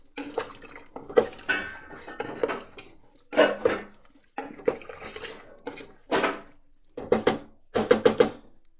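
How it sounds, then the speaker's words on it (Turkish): A spoon stirs a pot of boiled meat stew with potatoes and carrots, giving a run of sharp metallic scrapes and clinks in irregular bursts separated by short pauses, close and clear. "Daha sonra karıştırıyoruz."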